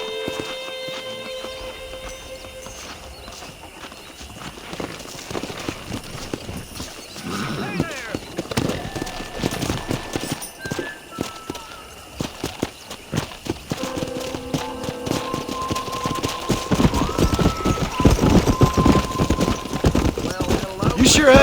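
Hooves clop in a rapid, uneven rhythm that builds over time as horses gallop in the video game Red Dead Redemption, with occasional whinnies, background music, and voices speaking throughout.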